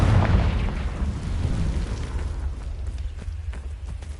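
The Confringo blasting spell exploding in Hogwarts Legacy: a deep booming blast up front that rolls off into a rumbling, crackling decay over several seconds.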